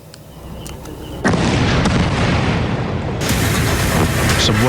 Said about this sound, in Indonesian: Sebuah ledakan yang berasal dari serangan udara Zionis Israel kembali menyiksa warga Gaza, Palestina